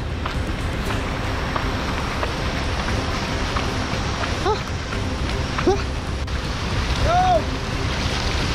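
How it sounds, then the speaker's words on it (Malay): Steady heavy rain hisses across the whole span at a campsite, with faint bird chirps and a brief vocal sound standing out above the downpour. "Hujan menitik dah ni."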